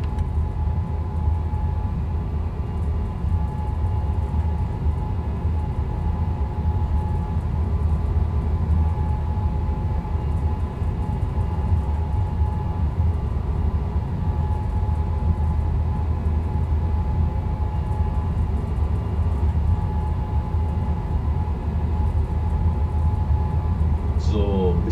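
Steady low rumble and rolling hum of a Nightjet passenger train running at night in the Train Sim World 3 video game, a continuous loud drone with a faint tonal whine above it.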